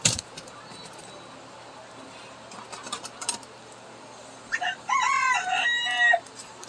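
Farm chickens in a coop: faint scattered clucks and rustling early on, then a loud rooster crow rings out near the end.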